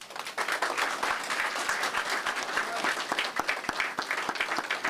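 An audience at the installation ceremony for Charles Jean-Jacques, the new Haitian minister of social affairs and labour, claps steadily in a dense, moderately distant round of applause lasting several seconds.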